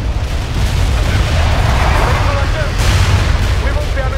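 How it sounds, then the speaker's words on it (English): Artillery barrages and airstrikes from the World in Conflict strategy game pound away in a dense, loud rumble of booms and blasts, with a voice speaking over the bombardment. "Romanov, call in artillery and airstrikes on them."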